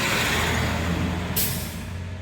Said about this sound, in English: excuse me while this truck go by